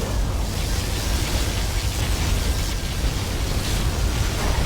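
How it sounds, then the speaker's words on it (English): Particle cannon in C&C Generals Zero Hour firing, a steady roaring broadband blast with heavy low rumble that holds loud and unbroken throughout, with no talk over it. "Particle cannon activated."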